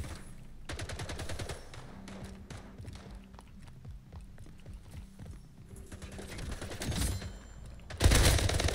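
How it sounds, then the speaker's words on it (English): Rapid bursts of gunfire from the arena shooter Splitgate rattle through a fast firefight, with dense automatic volleys, brief pauses and a sharp loud burst near the end. "I'm getting shot by three people, one through a portal, dude."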